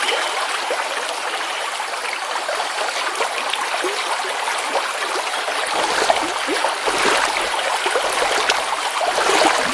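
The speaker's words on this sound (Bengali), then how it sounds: "নৌকা চলতে থাকে।" A boat glides across a river, with a steady rush and slosh of water continuing throughout, close and fairly loud, and no voices.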